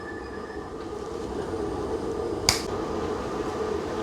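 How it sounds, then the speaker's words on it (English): A single sharp finger snap rings out, close and crisp, over a steady low background hum with no talking. "I'd love to do one of those things where you snap your fingers and he just gets unboxed"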